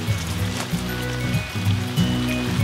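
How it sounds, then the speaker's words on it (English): Rain patters loudly and continuously up close, with a low tonal hum running underneath. "I think it's raining in here!"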